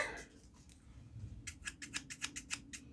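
Metal scissors snipping open and shut several times in a quick, even rhythm, close and fairly quiet, after some light handling noise.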